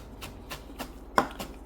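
A knife on a cutting board chops carrots into thin strips for gimbap, with steady rhythmic taps about every quarter second and one sharper knock near the end.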